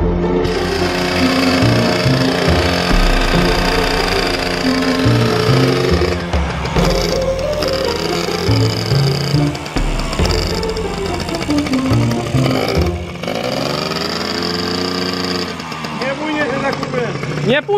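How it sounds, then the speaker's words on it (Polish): A scooter engine being repaired and tuned starts and runs with a loud, steady, buzzing drone that wavers in pitch throughout, close by, with voices under it. "Palę maszynę i jadę."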